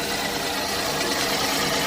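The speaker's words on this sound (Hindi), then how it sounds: "अचानक से आरपीएम डाउन हो रहा है और एक्सीलेटर छोड़ा है, मिस फायरिंग कर रहा है।" Datsun redi-GO engine misfiring as rpm drops off the throttle, with one ignition coil not working and a P0313 misfire fault; a steady, dense, rough mechanical run heard close for two seconds, no voices.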